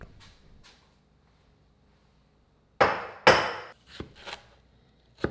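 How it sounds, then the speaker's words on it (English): A knife chopping seeded vegetables into one-inch pieces on a cutting board, two hard thumping chops close together followed by a few lighter knocks and taps, no voices. "He cuts them into 1-inch pieces, violently."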